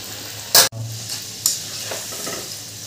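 Moong dal pitha fry in hot oil with a steady low sizzle, broken by a couple of sharp spattering bursts up close.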